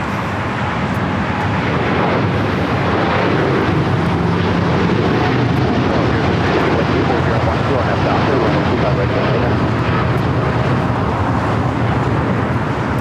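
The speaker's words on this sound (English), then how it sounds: "This is Japan Airlines Flight 61 taking off to Tokyo Narita on the 787-9 Dreamliner in the One World livery." Japan Airlines Boeing 787-9 Dreamliner in oneworld livery taking off from LAX, a steady broad jet roar filling the whole stretch at constant loudness, with people talking faintly over it.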